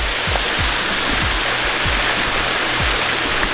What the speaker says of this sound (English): that's the flow of the water going down into the pond